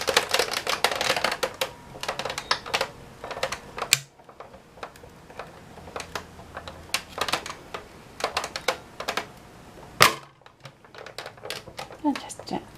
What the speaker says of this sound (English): just winding it through my die cutting machine